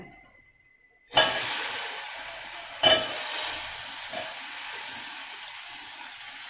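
Cumin seeds and peanuts hit hot oil for a tempering with red chili powder, bursting into a loud, close sizzle after a second of quiet, with a sharp crackling spike midway before settling into a steady hiss.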